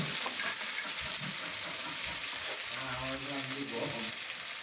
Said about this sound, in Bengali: সেই একই তেলের মধ্যে আমি পেঁয়াজগুলো দিয়ে দিলাম